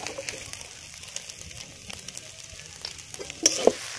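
Onion, garlic and ginger paste fries in a pan at an outdoor winter picnic, giving a soft, steady sizzle with occasional stirring clicks and faint bird coos in the background.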